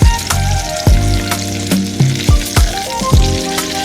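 A salmon fillet sizzles loudly in a hot pan of oil, a steady crackling hiss broken by repeated sharp clacks of a utensil against the pan, with no voices.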